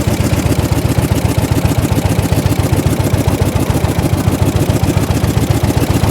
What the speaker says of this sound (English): Reverse pedal down. Bring up the revs.